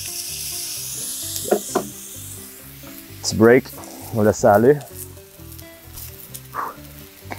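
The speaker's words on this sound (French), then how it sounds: "vraiment aller saisir la viande à grosse température" Meat sears at high heat over an outdoor cooking fire, a steady soft sizzle running beneath close conversation in French, rising slightly as pieces are moved.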